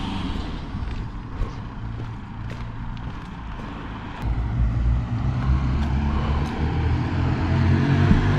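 A car pulls out of the Red Lion pub car park in Little Haywood, its engine a steady near rumble that grows louder partway through, with faint knocks and outdoor background and no talk.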